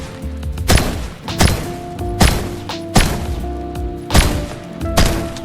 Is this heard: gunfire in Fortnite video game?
yes